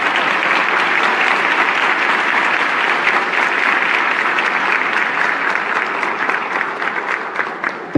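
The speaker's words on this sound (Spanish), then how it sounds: "Un aplauso." An audience at a Frente Amplio primary debate in Coquimbo breaks into applause, a steady wash of many hands clapping that holds loud and even, then thins slightly near the end.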